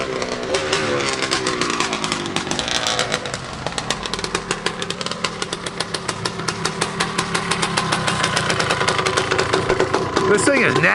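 A 1973 Suzuki TM250K vintage two-stroke motorcycle engine runs loud and close, with rapid crackling firing pulses and rising and falling revs as it is ridden, with a voice speaking over it.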